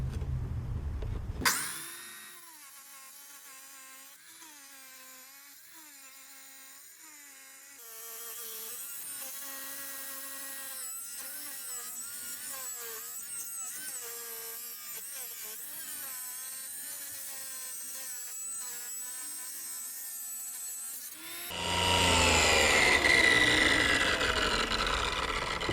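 A cheap Amazon table tile saw spins up to a steady, whiny motor drone and cuts a 45-degree miter in tile. The pitch wavers as the blade works through the piece, and the cut ends in a louder, rougher grinding burst.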